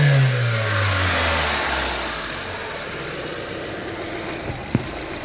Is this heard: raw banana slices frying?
no